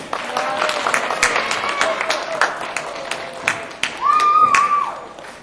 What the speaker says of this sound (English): We should keep clapping until he starts playing